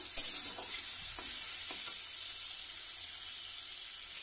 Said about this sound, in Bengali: ভালো করে আমি ভেজে নিচ্ছি পটল আলুকে নুন দিয়ে।